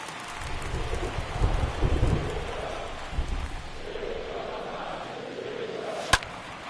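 Rain pours steadily over a baseball video game's stadium during an MLB White Sox at Tigers matchup, a constant broad hiss with low rumbling swells and one sharp click near the end.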